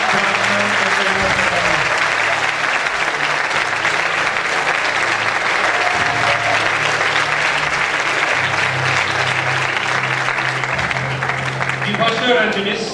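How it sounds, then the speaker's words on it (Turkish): At an award ceremony, an audience gives sustained, steady applause that fills the room, with a voice speaking over it near the start and again at the end. "Kendisini ilk yerine daha alkışlıyoruz."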